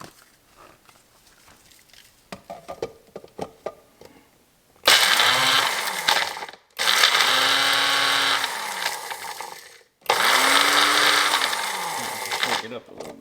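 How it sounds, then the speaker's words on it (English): Dried peppers grinding in a small Ninja or Magic Bullet blender: after quiet handling noises, three loud bursts of harsh motor whir and rattling chopping, each a couple of seconds long with short pauses between. "I'm not sure how this little ninja blender or this magic bullet's going to work with them"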